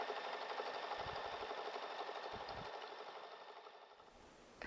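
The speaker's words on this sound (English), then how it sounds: "you just start with your first drawn line and you just stitch away" A home sewing machine runs steadily while machine quilting drawn lines on fabric, stitching with a fast, even whir and a faint rhythmic chatter throughout, slowing and stopping near the end.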